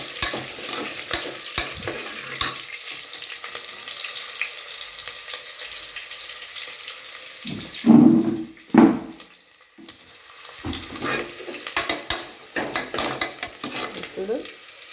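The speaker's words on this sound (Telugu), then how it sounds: "ఇప్పుడు ఎర్రగడ్డ ఇలా ఒకదాని తర్వాత ఒకటి వేసుకుంటా ఉంటే నీట్గా చక్కగా ఫ్రై చేయండి" Chopped onions fry in a pan while making fenugreek dal, with a soft steady sizzle under scraping stirs and a couple of louder clanks or splashes midway; no one speaks.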